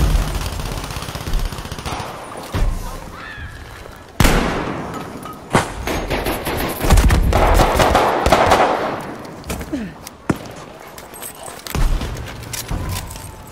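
Gunfire in Battlefield V multiplayer comes in sharp single shots and short automatic bursts, some close and loud, others further off, scattered across a tense firefight.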